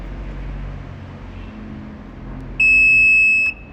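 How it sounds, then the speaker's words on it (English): Electronic beep from the electric tailgate system on a Tesla Model 3, a steady high tone lasting almost a second near the end, loud and clear over a low background hum. "try to hold it until you hear a beep"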